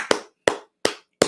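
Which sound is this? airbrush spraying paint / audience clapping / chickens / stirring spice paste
audience clapping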